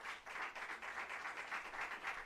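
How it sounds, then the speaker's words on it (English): Sustained audience applause fills a public anniversary lecture hall, a dense, steady wash of many hands clapping at moderate distance with slight swells, no talk over it. "Let's welcome her with a round of applause"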